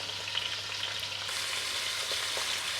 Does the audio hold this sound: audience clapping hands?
no